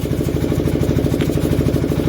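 A steady mechanical chugging runs close and loud without a break, a rhythmic clattering drone in a workshop where a Lister diesel engine is being cleaned down, the air compressor's pulsing thump repeating evenly throughout.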